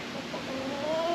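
Chickens cluck softly nearby, a few short overlapping calls over a steady background noise.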